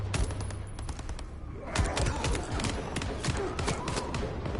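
Bursts of rapid gunfire in the video game Bloodlines 2 crack repeatedly over a rumbling background, dense volleys of shots running throughout with sharp, punchy reports.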